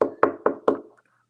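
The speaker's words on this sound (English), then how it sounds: "when we hear a knock on the door" Four sharp knocks on a door, evenly spaced and close, each ringing briefly before the next, followed by quiet.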